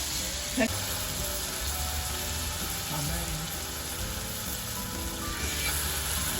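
Silver barb fish fries in a pan with fish sauce, giving a soft, steady sizzle and crackle at moderate volume that runs throughout with little variation.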